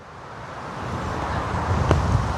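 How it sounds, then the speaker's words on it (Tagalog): Strong wind blows at an outdoor nature park viewpoint in La Trinidad. It makes a steady broadband rush and buffets the microphone, growing slightly louder throughout with no voices. "Ang lakas pa ng hangin."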